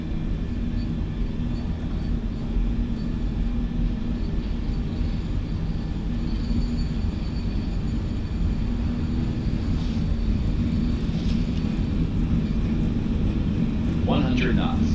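Airbus A320 engines roar at takeoff thrust in Microsoft Flight Simulator 2024, a loud steady broadband rumble that fills the whole stretch without a break.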